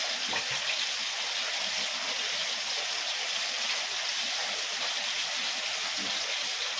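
Fish curry boils hard in a covered pot over a high flame, giving off a steady, close, even hiss of bubbling that carries on without a break and with no talk.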